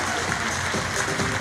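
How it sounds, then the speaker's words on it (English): Audience applause at an alumnus award ceremony, a dense, loud burst of clapping from a crowd filling the short moment without pause. "Give them a big round of applause."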